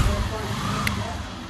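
2002 Honda Fan 125 motorcycle engine idling just after starting, a low steady rumble close by, with a voice speaking over it.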